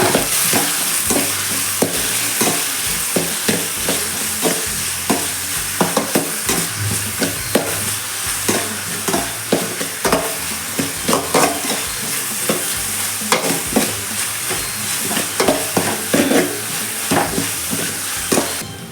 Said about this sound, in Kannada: ಫ್ರೈ ಮಾಡಬೇಕು ಸ್ವಲ್ಪ. ಒಂದು ಟೊಮೆಟೊ ತಗೊಂಡು ಹಾಕಬೇಕು.